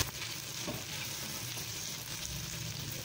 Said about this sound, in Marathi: त्यामध्ये टाकूया हे सगळं मिक्स करून हे फ्राय करून घ्यायचं चांगलं।